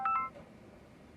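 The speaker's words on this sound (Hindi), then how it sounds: "स्कूल से फोन आ रहा है" A telephone beeps with an incoming call from a school: two quick, bright electronic tones, then a quiet room with no voices.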